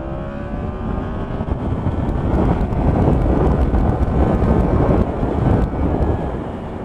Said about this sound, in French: j'adore le bruit du crossplane, c'est terrible.